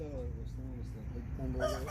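Bresse chickens and roosters on a farm in Istanbul, with a rooster crowing loudly near the end over a steady background of clucking fowl, close by, with people talking around them.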